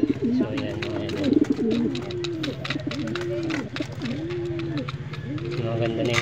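Pigeons coo inside their cage, a steady run of repeated throaty coos overlapping one another at close range, with a soft constant background murmur.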